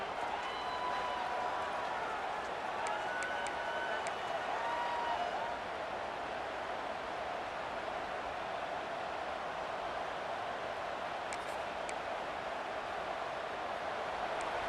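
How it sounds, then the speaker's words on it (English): A continuous, dense roar from a stadium crowd at a college football game, heard from a distance as an even wash of massed voices without individual words standing out. "Listen to the crowd energy here in the early going."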